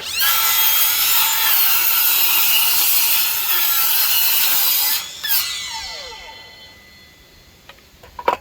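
A hand saw rasps quickly through the end of a wooden board outdoors, a loud continuous cutting rush for about five seconds, then slowing scrapes and a few light knocks as the piece comes free.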